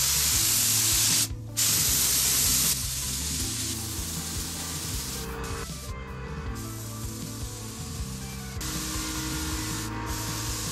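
Thinned acrylic paint sprayed onto an old surfboard, a steady continuous hiss that runs through the whole stretch with brief dips where the spray pauses, close and fairly loud with no talking.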